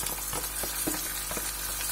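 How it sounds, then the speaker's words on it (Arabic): Rice and vermicelli sizzle steadily as they fry in a pot, a dense continuous crackle with faint stirring bumps and no voices. "كتسمعوا ديك التشنشينه؟"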